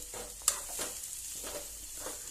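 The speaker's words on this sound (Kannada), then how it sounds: "ಸಣ್ಣದಾಗಿ ಕಟ್ ಮಾಡಿಕೊಂಡು ಇದನ್ನ ಹಾಕೊಳ್ಳಿ, ಕಲಿಸ್ಕೊಳ್ಳಿ" Finely chopped cabbage is stirred and tossed in a hot pan for a dry-cooked palya with no water added, giving a soft scraping and rustling with a faint sizzle and one sharp utensil clink near the start.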